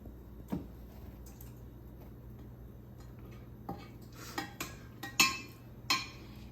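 The back of a spoon spreads Country Crock butter across the bottom of a casserole dish for chicken casserole, making quiet, scattered scrapes and light clinks over a faint steady hum, with no talking.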